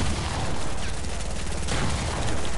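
Rapid bursts of gunfire from a video game, loud and dense, sounding like fusillade or automatic weapon fire that fills the short stretch without a pause, with no voices over it.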